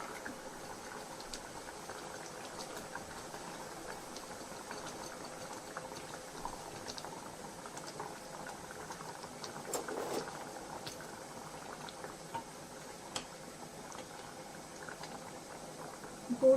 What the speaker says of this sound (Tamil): குழம்பு நல்லா கொதிச்சு வந்துடுச்சு.